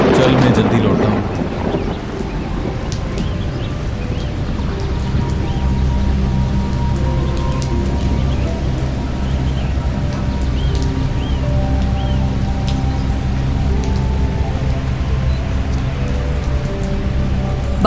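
Heavy rain pours down steadily with a dense, continuous hiss, and a low rumble of thunder rolls at the start before fading into the constant downpour.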